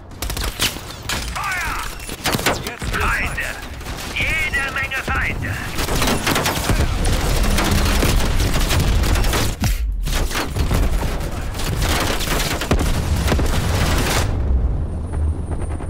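Rapid, continuous bursts of synthetic gunfire and booms from Call of Duty: Black Ops Cold War, dense and loud throughout, with a brief drop near the middle and a voice mixed in.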